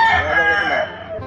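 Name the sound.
fighting rooster crowing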